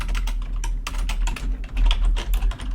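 Rapid, close typing on a computer keyboard while writing code, with dense irregular key clicks and brief pauses, heard alone without speech.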